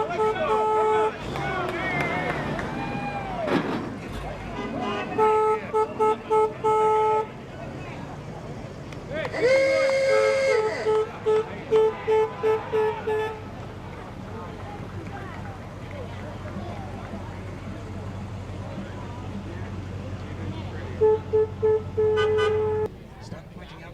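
At a 4th of July parade, an old fuel company truck sounds repeated loud horn toots in short bursts over crowd chatter and engine rumble.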